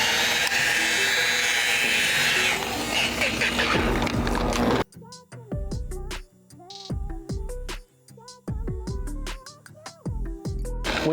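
A rotary polisher works car paint, a steady loud whir for the first few seconds that then breaks into bursts of motor winding up and down, with pitch sweeps as the pad presses and lifts.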